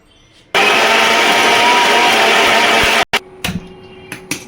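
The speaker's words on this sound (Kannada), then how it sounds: "ಸ್ವಲ್ಪ ನೀರು ಹಾಕ್ಕೊಂಡು ಮಿಕ್ಸಿ ಮಾಡ್ಕೊಳ್ತೀವಿ" A mixer grinder blends spices with a little water, roaring loudly and steadily for about two and a half seconds before cutting off, followed by a few short clattering knocks.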